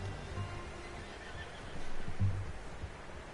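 A horse neighs in Red Dead Redemption 2, a fairly quiet whinny over low rumbling ambience that swells toward the middle of the short stretch, with faint hoof clip-clop under it.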